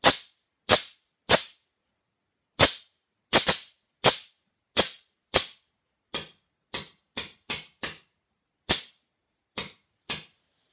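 Sharp pneumatic shots from a homemade air-powered softgun rifle popping off one after another, about fifteen in all at irregular intervals, each a crisp loud crack with a short decay and silence between.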